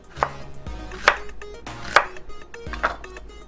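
A knife slices an onion into strips on a cutting board, giving four evenly spaced, crisp chopping thuds at close range with a soft hum in the background and no talking.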